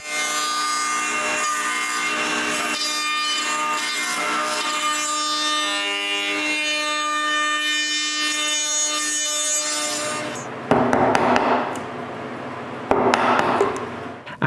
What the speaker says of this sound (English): I route a rabbet around the bottom